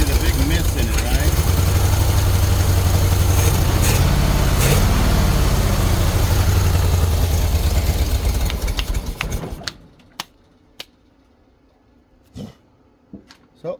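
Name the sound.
Jeep engine running with a big misfire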